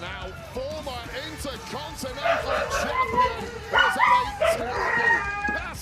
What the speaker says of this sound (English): My dog's going crazy because my wife just got home.